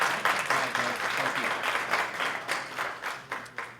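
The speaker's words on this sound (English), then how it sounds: "One more round of applause." Audience applause at a Constitution Day event: a steady wash of many hands clapping for nearly four seconds, dense and fairly even, with a few sharper claps standing out near the end.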